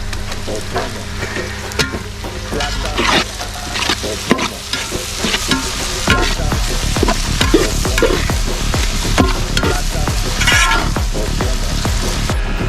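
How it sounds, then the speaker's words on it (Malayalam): Onions, green chillies and tomato frying in a large pot for turkey curry, a steady sizzle with repeated scraping stirs from a ladle, loud and close, no voices. "അപ്പോൾ നമ്മുടെ സവാളയും പച്ചമുളകും എല്ലാം വഴണ്ട് വന്നിട്ടുണ്ട്"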